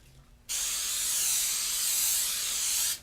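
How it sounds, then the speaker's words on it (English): Pam cooking spray hisses steadily into a pan, a loud continuous spray starting abruptly and holding for about two and a half seconds before cutting off. "First, we're going to have to spray this pan out with some Pam or any other cooking agent you prefer."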